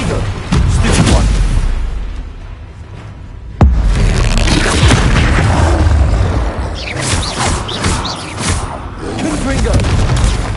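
Confringo blasting spells in a Hogwarts Legacy battle: several loud booming explosions, with a sharp blast near the middle, mixed with crackling combat effects and someone shouting over them.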